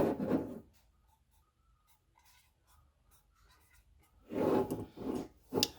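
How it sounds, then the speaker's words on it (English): Pen marker scratching dates onto leftover sticker paper labels for glass jars of homemade elderberry syrup, close and quiet, with short bursts of writing at the start and again near the end, a faint lull between. "I'm just gonna put the date on them"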